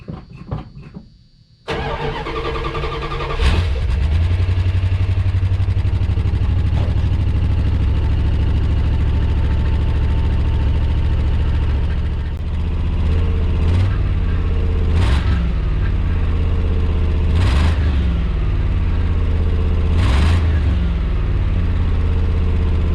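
A 1987 Dodge RamCharger cranks briefly and fires on a cold start, then settles into a loud, steady low idle up close, with a few sharp clicks or knocks over the engine rumble.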